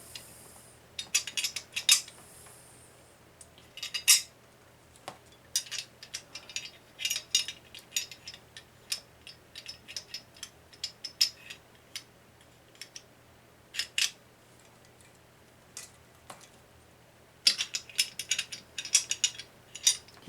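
Metallic clicks and rattles come from an M1 carbine being reassembled, as its bolt drops into place; sharp, irregular bursts of close parts handling with brief pauses between them.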